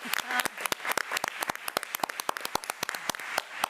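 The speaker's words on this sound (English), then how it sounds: "Let's give Corvo another round of applause." A smaller group claps for a student at a school board meeting, with individual hand claps standing out as a crisp, fairly quick run of separate strikes.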